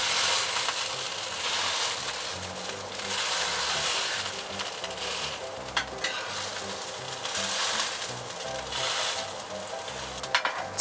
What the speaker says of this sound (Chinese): 咁而家咧煎佢一陣間先，煎佢大概一分鐘到先